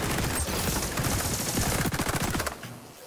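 Sustained rapid automatic fire from the LVOA-C rifle in XDefiant, a dense rattling burst that runs loud and close for about two and a half seconds before cutting off into a brief fading tail.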